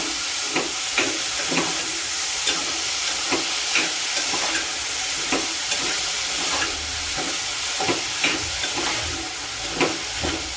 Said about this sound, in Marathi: आता ह्याच्यामध्ये आपण फ्लावर ओतून घेऊया उकडलेला आहे